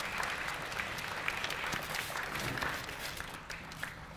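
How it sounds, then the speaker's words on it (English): A group at a cultural wealth institute event receives a round of applause, heard as steady, fairly distant clapping from an audience. "Please join me in giving a round of applause to this group."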